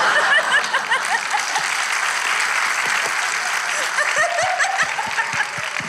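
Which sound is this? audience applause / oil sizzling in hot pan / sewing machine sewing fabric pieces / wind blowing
audience applause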